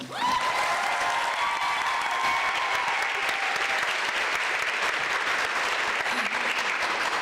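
Sustained applause from a commencement audience greeting a graduating nurse at a college ceremony, a steady dense wash of clapping that holds evenly for the whole stretch without any talk.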